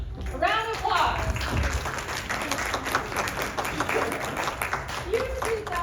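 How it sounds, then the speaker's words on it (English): Audience applause at a steampunk convention compliment-duelling contest, steady clapping from a crowd throughout with a voice speaking over it. "A round of applause."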